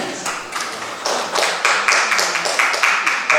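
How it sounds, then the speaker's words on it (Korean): A church congregation applauding after a report, as scattered claps that build into a steady round of applause from many people indoors. "박수를 좀."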